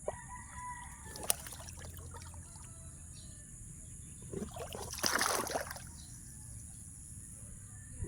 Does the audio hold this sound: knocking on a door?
no